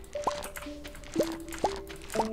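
Watering crops with a watering can in Stardew Valley, four short bright watery splash blips in a quick uneven rhythm over quiet game music.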